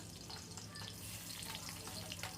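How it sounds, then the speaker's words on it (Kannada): Finely chopped garlic frying in hot oil in a pan for vegetable hakka noodles, giving a soft, steady crackling sizzle that is faint and continuous, with no talking. "ಸೊ ಇಲ್ಲಿ ಬೆಳ್ಳುಳ್ಳಿನ ಈ ಥರ ಸಣ್ಣದಾಗಿ ಕಟ್ ಮಾಡಿ ಹಾಕ್ಕೊಂಡಿದ್ದೀನಿ. ಎಣ್ಣೆ ಕಾದ್ಮೇಲೆ ಹಾಕ್ಕೋಬೇಕು."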